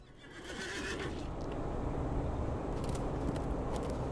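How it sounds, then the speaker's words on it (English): A war horse in The Lord of the Rings Online whinnies loudly at the start as its hooves clip-clop steadily underneath, a continuous galloping rumble with no talk. "I'm going to be brave and get on my war horse."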